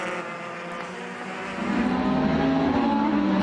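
Vintage race cars running at Circuit of the Americas, a pack of engines droning and rising in pitch as they accelerate together, loud and sustained, with a commentator talking over them.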